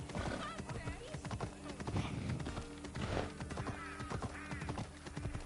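A horse in the video game Assassin's Creed Odyssey clip-clops along at a steady trot and whinnies, while people chat over the game sounds.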